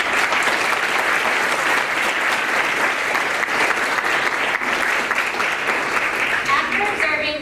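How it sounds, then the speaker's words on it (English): Sustained, loud applause fills a large hall at a community awards gala, steady throughout with crowd noise and faint voices mixed in. "Can we get a round of applause for that"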